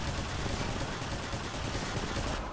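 Rapid automatic gunfire in the game Entropy Zero chatters without a break, dense and fairly quiet, with no voices over it.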